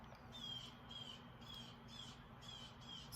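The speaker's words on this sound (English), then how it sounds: "those crows are loud outside." Crows caw repeatedly outdoors, a series of harsh calls spaced about half a second apart over a steady low background hum.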